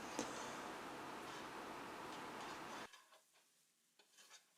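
Onions and parsley sauté in a pan for a Spanish chorizo soup, giving a steady broadband sizzle with stirring for about three seconds before it cuts to near quiet with a few faint scrapes and clicks.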